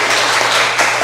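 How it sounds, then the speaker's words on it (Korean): A short burst of dense audience clapping at a church testimony gathering, loud and close, filling about a second before cutting off. "박수 한번"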